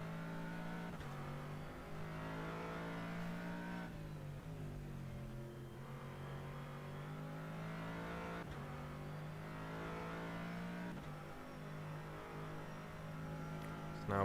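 Corvette and BMW race cars at the Spa 24 Hours, engines droning steadily with repeated upshifts and rising revs, one continuous close engine note throughout, with commentary faint underneath.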